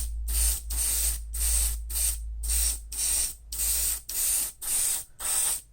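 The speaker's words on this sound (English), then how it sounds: "I'm gonna spray the brass spoon." An airbrush sprays lacquer paint onto a brass spoon in repeated short hissing bursts, about nine of them in a steady rhythm, close to the microphone, with no talking.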